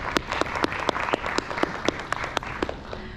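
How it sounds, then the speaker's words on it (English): An audience at a NAMM music industry seminar panel claps in a moderate burst of applause, individual claps distinct and sharp, fairly close and steady throughout. "Can you please give them a round of applause?"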